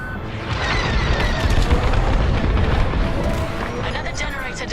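A generator blows up in a Star Wars: Squadrons space battle, a deep rolling boom with rumbling debris lasting several seconds, heavy and close, with faint voices mixed in.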